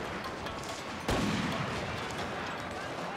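Artillery fire in the video game Total War: Shogun 2, Fall of the Samurai multiplayer battle: a single sudden boom hits about a third of the way in, then dense battle noise rumbles on beneath it.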